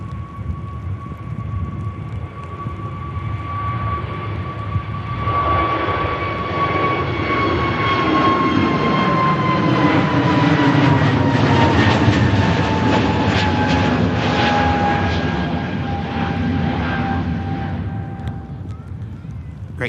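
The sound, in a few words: EasyJet jet airliner on its takeoff roll at Manchester Airport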